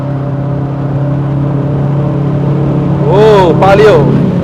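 Engine of a 2026 Jetour T2 SUV on a mountain road in Sport mode, a steady loud cabin drone rising as it accelerates with paddle-shift gear changes, with a voice speaking briefly over it near the end.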